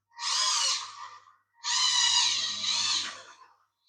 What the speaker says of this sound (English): Sounds to me like I've actually got a slipping gear there